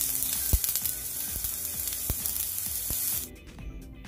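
Potatoes sizzle and spit in a frying pan as they are flipped, a bright steady hiss broken by a few sharp scraping knocks of the turner before the frying dies down near the end.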